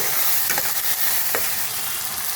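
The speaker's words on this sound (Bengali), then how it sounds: "দিয়ে এখন ভালো করে এটা মশলাটা আমি কষিয়ে নেব" Spice paste with cumin powder for chital malai curry being sautéed in oil: a loud, close, continuous sizzle with a couple of brief stirring scrapes, no voices.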